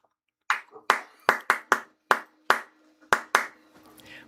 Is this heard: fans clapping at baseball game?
yes